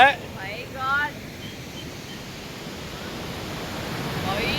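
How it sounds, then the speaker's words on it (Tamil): Floodwater gushes from the sixteen sluice gates of Mettur Dam as a steady, broad roar of rushing water, loud and continuous, building slightly toward the end, with brief faint voices at the start. "நயாகரா நீர்வீழ்ச்சி மாதிரி தண்ணி அப்படியே ஆர்ப்பரிச்சு அப்படி வெள்ள மாதிரி கொட்டிக்கிட்டு இருக்கு பாருங்க"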